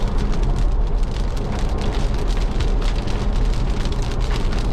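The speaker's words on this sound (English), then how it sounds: "the rain's probably affecting this a little bit" Rain drumming steadily on a 2023 Ford Ranger pickup truck, heard from inside as a dense, loud, continuous patter of drops over a low road rumble.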